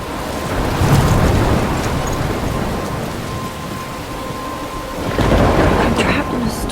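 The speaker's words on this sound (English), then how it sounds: "I'm trapped in a storm?" A thunderstorm in the video game Life is Strange, with steady heavy rain and rolling rumbles of thunder that swell near the start and again toward the end, loud and continuous.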